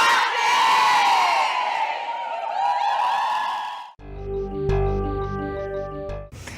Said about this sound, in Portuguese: E o grito de guerra por aqui já é possível imaginar.